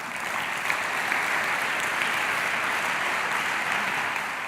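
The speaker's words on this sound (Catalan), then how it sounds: "La rebem també amb un fort aplaudiment." An audience at a literary awards ceremony in Girona applauds steadily as a speaker is welcomed onto the stage, a dense, even wash of clapping that holds at the same level throughout with no voices over it.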